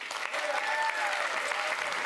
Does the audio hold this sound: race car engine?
no